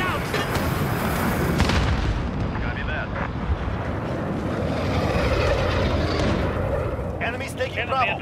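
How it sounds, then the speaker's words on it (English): Explosions and heavy battlefield rumble from Call of Duty Modern Warfare multiplayer, a loud sustained boom-filled roar over several seconds with scattered game effects and radio voices talking over it. "Grenade out!"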